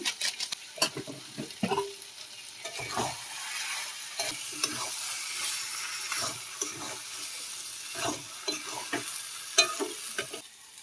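Prawns stir-fry in a pan for a banana flower curry, a soft steady sizzle with repeated scraping stirs of a spoon, fairly quiet and without talk.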